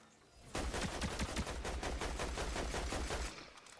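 Rapid gunfire in the video game Fortnite, a fast steady stream of shots rattling continuously for about three seconds after a quiet start, with no talking.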